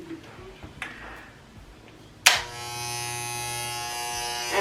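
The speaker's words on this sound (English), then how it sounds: "I'm going to take some clippers and a 1-inch guard and start cutting his hair." Electric hair clippers with a 1-inch guard switch on with a sharp click and settle into a steady, close buzzing hum while cutting a boy's hair at home, after a stretch of quiet room noise.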